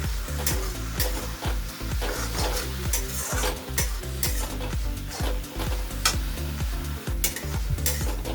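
Onions fry over high heat in a pan while being stirred, a continuous sizzle punctuated by regular, heavy spatula strokes about twice a second, close up and with no voices.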